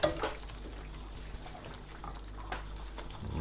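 A ladle of liquid is poured into chicken tikka masala cooking in a pan, giving a soft, watery splash and sizzle that runs quietly for a few seconds with a few louder spatters.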